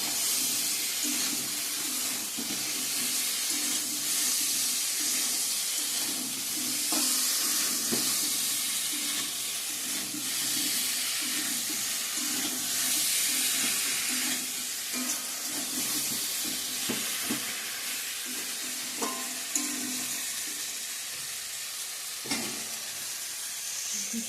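Leafy greens are stir-fried in a pan with cumin powder and ground spices for a mixed vegetable chechra. A steady, close sizzle and hiss carry on throughout with occasional stirring scrapes and no talk.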